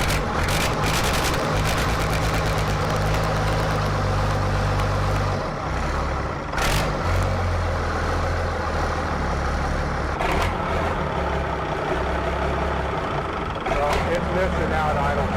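A Cummins diesel swapped into a Jeep Wagoneer cranks, fires and settles into a loud, steady rumbling idle in a shop, with a few sharp bangs or knocks over the engine and people talking around it.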